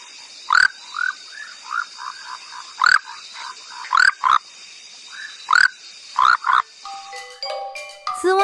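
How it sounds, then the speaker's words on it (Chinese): Recorded frog calls of a male calling from plants at the water's edge: short, loud croaks in irregular bursts and doublets with softer trailing notes between them, ending in a few brief tonal sounds. "雄蛙通常会在水边的植物体上鸣叫，叫声是短促的呱呱呱呱。"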